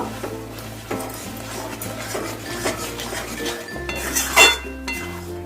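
A metal spoon stirs ghee and garam masala through mung dal and prawns in a pan, making repeated close clinks and scrapes against a low steady hum.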